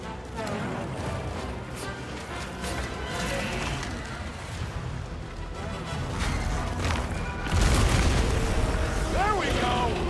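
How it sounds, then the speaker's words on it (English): Heavy booming explosions set off by a monster's attack in Monster Hunter Wilds, loud rumbling blasts layered with game noise, swelling into a bigger burst near the end. "Soon as the monster's attack sets it off, kaboom!"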